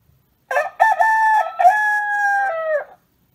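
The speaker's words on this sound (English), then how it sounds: "he heard a cock crow" A rooster crows alone, one clear and loud cock-a-doodle-doo with a broken opening and a long sustained, slightly falling final note.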